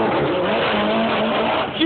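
A Mitsubishi Evo 9 race car drifts nearby, a loud, sustained roar of engine and tyre squeal held steadily for under two seconds.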